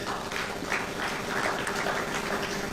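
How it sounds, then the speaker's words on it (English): Audience applause at a World Refugee Day high-level dialogue in a hall, a steady, dense wash of clapping that continues evenly throughout, heard from a middle distance. "Let's give her a round of applause."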